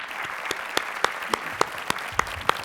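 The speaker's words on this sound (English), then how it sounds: "Can I hear a round of applause for our speakers?" A conference audience applauds the panel speakers with steady, moderately loud clapping. Distinct sharp claps recur at a regular pace over the crowd's wash.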